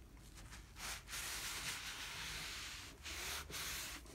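A rag wiping excess finish off bare wood on a bathroom vanity gives a steady soft rubbing hiss. It stops briefly near one and three seconds, with no talking.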